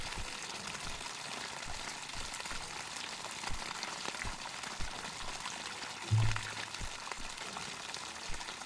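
Water rinsing soap off a horse in the Animal Shelter Simulator game, a steady hissing spray running continuously with faint splashy texture and a brief low thump near the end, no voices.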